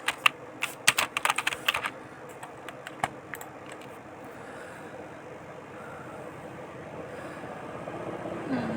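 Computer keyboard typing, with a quick burst of sharp, close keystrokes at the start that thin out to a few isolated taps, followed by a low steady hum.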